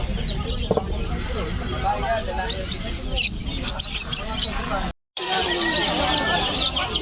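Busy pet market ambience in Malabon, Philippines, with bird chirps and tweets scattered over a steady hubbub of chatter, briefly cutting out before resuming.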